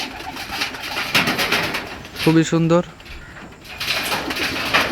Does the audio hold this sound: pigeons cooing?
yes